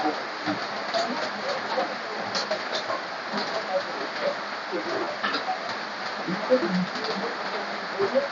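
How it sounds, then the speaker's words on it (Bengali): Heavy monsoon downpour drums on a shop roof and street outside, a thick constant wash of rain with scattered drips, steady and fairly close throughout. "এখন বৃষ্টির মধ্যে বসে আছি, আর দেখেন বৃষ্টি হচ্ছে, বৃষ্টি পড়তেছে, সেই জোরে বৃষ্টি হচ্ছে, মুসলধারে বৃষ্টি পড়তেছে"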